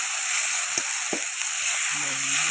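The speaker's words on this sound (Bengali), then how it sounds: "এখন অল্প অল্প দিয়ে এগুলো মাটনটাকে দিয়ে একটু ভালো করে কষে নিয়ে তো রান্নাটা করবো" Marinated mutton with spices sautéing in a pan, giving a steady broadband sizzle with a couple of brief stirring scrapes and a low hum toward the end, no talking.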